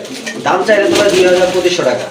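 A pair of thick-beaked pigeons for sale coo at close range, a soft, throaty, rolling call that repeats for about two seconds, with a voice faintly behind.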